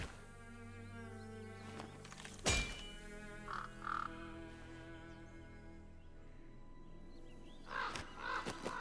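Harsh crow caws from the animated series RWBY ring out a few times over a steady, low background hum, with a sharp thump partway through.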